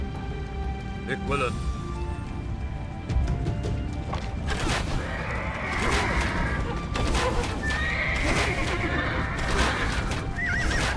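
Horses in the video game Age of Empires 2 neigh and whinny repeatedly during a battle of Agincourt, over a busy mix of hoof clatter, crashes and background commotion, with voices talking throughout.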